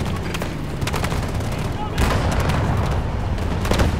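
Dense battlefield noise from Battlefield 2042 during a fight with an enemy tank: continuous loud gunfire and booming blasts, growing heavier midway through, with a voice faintly underneath.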